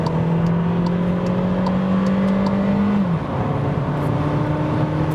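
Skoda Rapid Spaceback with a 1.2-liter turbo engine pulls hard from 80 to 120, a steady loud cabin drone with engine tone rising and holding, then dropping briefly at a gear change before climbing again over road and wind roar.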